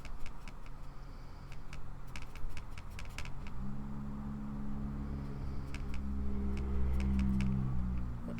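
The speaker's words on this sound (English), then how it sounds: "That's a loud car." A loud car passes by outside, its engine rumble rising and growing heavier over several seconds, with light ticking and clicking sounds nearby in the room.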